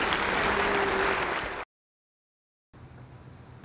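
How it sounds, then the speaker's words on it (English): An audience at a televised 2014 Republican gubernatorial debate claps loudly for the candidates for about a second and a half, then a gap of silence, then quieter, more distant clapping resumes. "Ladies and gentlemen, let's give our candidates a round of applause."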